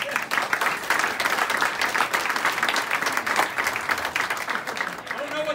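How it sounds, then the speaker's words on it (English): At a retirement roast, the audience breaks into lively applause as a roaster named Brett Ford comes up, dense clapping with some cheering that stays strong throughout, while a voice speaks briefly near the end. "please give a warm round of applause for Mr."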